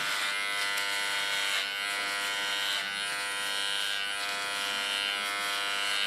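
An electric hair clipper set to 2 millimetres buzzes steadily and close up while it shaves the nape of a short platinum blonde pixie cut, a constant mechanical hum with slight changes in load as it moves.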